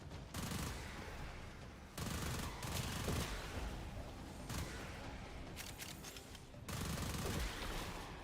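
Rapid-fire weapon in the game Warframe, sustained bursts of fast automatic gunfire broken by brief pauses, loud and close with no talking.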